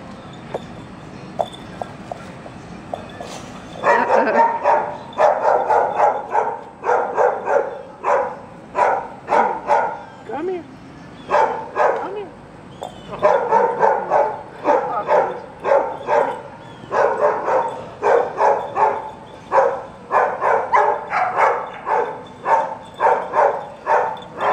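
Dogs bark in repeated bursts, loud and close, with yips mixed in among the barks and a short quiet spell partway through.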